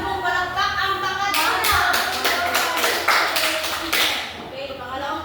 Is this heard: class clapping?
yes